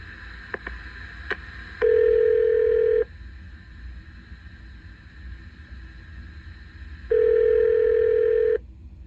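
A phone line rings out while a radio host calls a listener: a few quick dialing tones, then two long, loud ringback tones separated by several seconds of quiet line hiss, with no voices.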